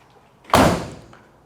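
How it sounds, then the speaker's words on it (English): A single solid thud as the door of a 1968 Chevrolet El Camino SS shuts nearby, with a short fading tail and otherwise quiet surroundings. "Door shut real good there."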